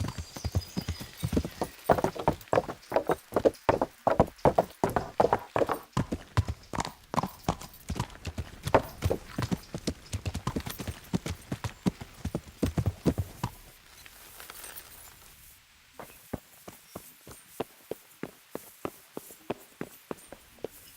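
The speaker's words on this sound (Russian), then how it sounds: "Конь этот классный вообще, такой быстрый." Hooves of a fast horse pound steadily in a medieval role-playing game, a loud, rhythmic clip-clop that runs for a long stretch, dips briefly into a softer patch, then resumes at a slightly quicker, lighter pace.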